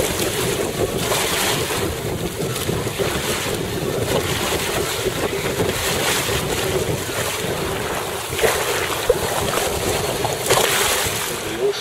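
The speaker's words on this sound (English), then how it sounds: "12 mile an hour of wind apparently." Steady wind rushing across the microphone aboard a sailboat on the Blackwater in roughly 12 mph of breeze, with water wash beneath, continuous and fairly loud with occasional gusts.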